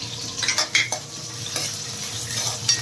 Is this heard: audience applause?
no